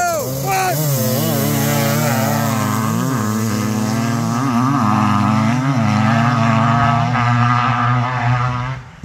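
A 500cc two-stroke GasGas motorcycle held at wide open throttle, its loud, continuous engine note rising and wavering as it revs hard, with the pitch shifting through the run and staying close and dominant throughout.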